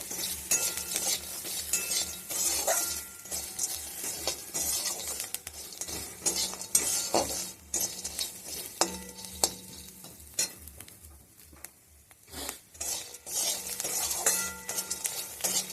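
Bori lentil dumplings fry with salt, turmeric and roasted spices in a pan while a spoon stirs them, giving repeated clinks and scrapes against the metal over a continuous sizzle, with brief pauses between strokes.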